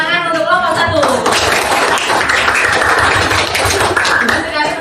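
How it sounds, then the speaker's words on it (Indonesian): A classroom audience of students claps for a group presentation, steady moderately loud clapping filling the whole stretch, with some children's voices mixed in. "Beri tepuk tangan untuk kelompok 1."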